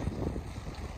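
A gust of wind buffets a sailboat heeling in a freshening breeze off the Turkish coast, a steady broadband rush with low rumbling swells lasting about a second, no voices.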